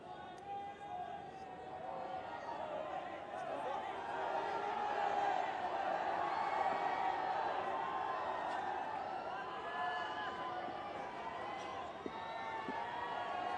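A crowd of a few thousand gathers at a Ranji Trophy cricket match between Delhi and Railways, a steady distant murmur of chatter and voices filling the ground under continuous speech.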